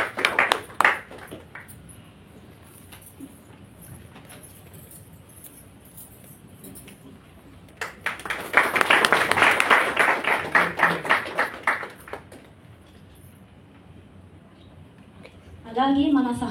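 Applause from a church gathering as a pastor is welcomed onto the stage, a burst of clapping swelling for about four seconds mid-clip, with a voice speaking over the hall before and after.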